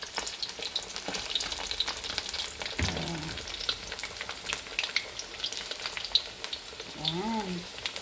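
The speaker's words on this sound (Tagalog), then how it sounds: "So ganito na lang guys ang ating pagprito ng ating sisig." Sisig frying in oil in a pan, with a steady crackling sizzle throughout, occasional stirring clatter and a brief voiced exclamation near the end.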